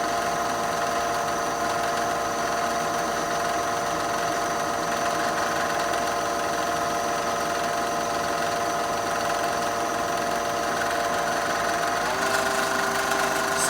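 Lathe spinning up for pen turning and holding a steady run at around 1450 rpm, a continuous even motor hum with a faint mechanical whine, loud and close, with a slight shift in pitch near the end.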